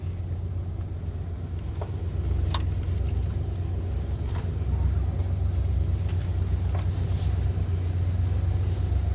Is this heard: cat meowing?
no